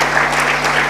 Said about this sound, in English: I think we need to give a big round of applause to all these leaders.